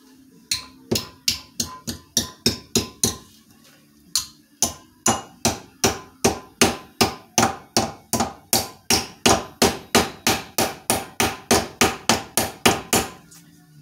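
A hammer striking repeatedly while an Ultra Cruiser is being built: sharp, loud, close blows in fast steady runs, a brief pause near the middle, then a long even sequence of strikes with no talking.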